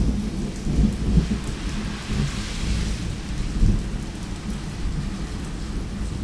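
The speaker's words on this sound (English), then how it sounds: "There's that same rolling thunder." Rolling thunder rumbles low and steady beneath continuous rain on a rainy day outside a locksmith shop, with a few swells in the rumble and no voices.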